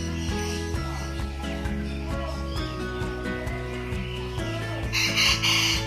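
Bantam chickens in red junglefowl colouring, some in yellow junglefowl shades, cluck and crow in a busy market pen, with steady clucking throughout and a louder burst of calls near the end.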